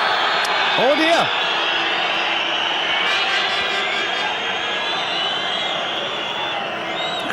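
Football crowd at a Czech Republic versus Germany Euro 2007 qualifier jeering a referee's decision, a loud, steady roar and whistling filling the stadium throughout.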